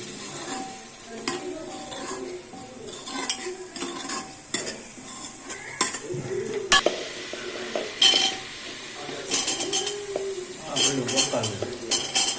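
Vegetables and masala frying in a pan for pav bhaji, with steady sizzling under repeated scraping and stirring strokes, scattered clinks of a spoon on metal and occasional voices in the background.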